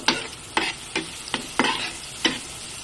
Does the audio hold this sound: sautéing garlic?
yes